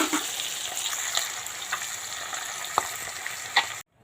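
Thin fish fry in hot oil in a home kitchen, giving a steady close sizzle and crackle with a few brief stirring clatters and sharper pops near the end, with no talking.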